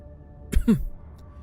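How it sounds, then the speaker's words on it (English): A single short, soft polite cough from a totem in Warhammer 40,000: Rogue Trader, followed by a brief throat-clearing sound, isolated against a quiet hum. "interrupts the translation with a polite cough"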